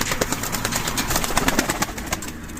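Turkish Boz Kirli tumbler pigeons in a loft, with soft cooing and fluttering wing claps in a busy, close cluster of bird sounds.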